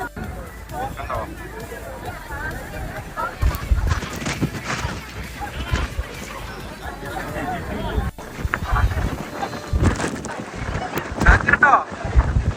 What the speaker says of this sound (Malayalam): ഇവിടുന്ന് നമുക്ക് നല്ല കാറ്റാണ്.